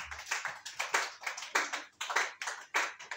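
A church congregation claps along during worship, a steady rhythmic applause of many hands close by and moderately loud, keeping an even beat throughout.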